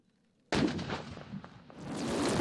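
A sudden loud tank cannon blast bursts in after a brief quiet during military exercises in Lviv Oblast, followed by a rumbling roll and a second surge of heavy booming, close and powerful.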